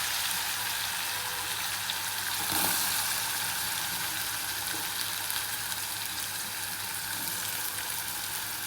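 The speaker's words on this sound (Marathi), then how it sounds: "ते चांगलं परतलं लगेच आपल्याला त्यामध्ये कांदा टाकून घ्यायचा आहे." Onion frying in oil for baingan bharta, a steady close sizzle with faint stirring, continuous and even throughout with no talking.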